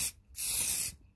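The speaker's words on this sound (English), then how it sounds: "a spritz of this hairspray, and that'll allow us to chip the paint later" Hairspray spritzed from an aerosol can onto a scale model as a paint-chipping layer: a short close hiss, then a longer steady spray burst of about half a second, with no talking.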